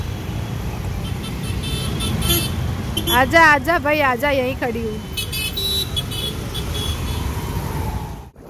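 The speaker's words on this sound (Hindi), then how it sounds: "यहाँ पे ट्रैफिक की लंबी लाइन तो देखो" Busy road traffic in an ONGC Colony area of India, with a long line of vehicles; a car horn honks repeatedly in a rising-and-falling pattern midway, over a steady traffic rumble while someone talks nearby.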